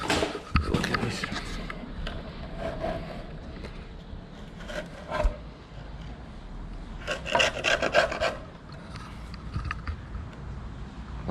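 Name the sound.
chisel scraping metal on LS1 engine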